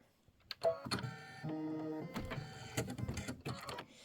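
A computerized embroidery machine stitches a tack-down, giving short bursts of quiet, rapid mechanical whirring and stepping motor tones with brief pauses in between, close and fairly faint.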